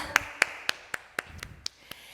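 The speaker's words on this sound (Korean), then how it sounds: "같이 하나님께 영광의 박수 올려드리겠습니다." Children clap during a lower-grade Sunday worship service at church, with about eight sharp, evenly spaced claps sounding close and clear, with no talking.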